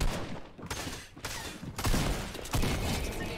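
Gunfire through a wall in the Fortnite video game: loud, dense bursts of shooting in several heavy volleys separated by brief gaps, close and sustained.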